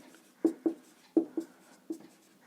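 Pen on paper while a program heading is written out, giving five or six short, crisp scratching strokes in quick pairs, close and fairly quiet, with no talk.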